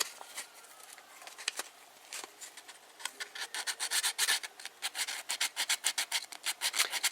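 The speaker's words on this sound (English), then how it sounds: "100 grit sandpaper is you know, fairly coarse. Try and remove it an even amount from both sides." Plastic is rubbed by hand with coarse 100 grit sandpaper, irregular strokes at first, then a quick steady run of rasping back-and-forth scrapes, close and fairly quiet.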